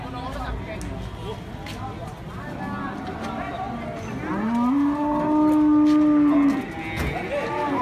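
Cattle low and moo at a busy Monday cattle market in Basuki, one long loud bellow rising in the middle over a steady murmur of crowd and background activity.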